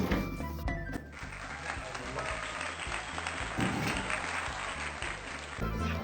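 Studio audience applause welcomes a guest onto a comedy evening TV show: dense, steady clapping from a large crowd fills about six seconds with no pause.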